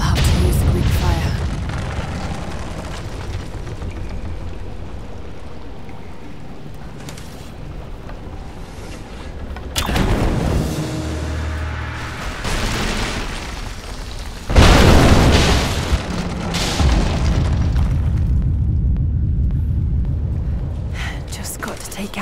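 Greek fire explodes in Rise of the Tomb Raider, heavy booms and rumbling bursts erupting over a windy, roaring game backdrop, with a character's voice talking at times.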